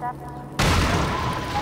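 A sudden loud explosion in the VR game Half-Life 2 VR, a heavy booming blast that begins abruptly and then rumbles on as a sustained roar of debris, with voices talking around it.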